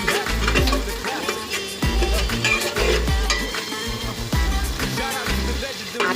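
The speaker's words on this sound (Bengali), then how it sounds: "আলু ভেজে দিচ্ছি" Potatoes fry in a pan with a steady sizzle, broken by repeated stirring scrapes and clinks of the utensil against the metal.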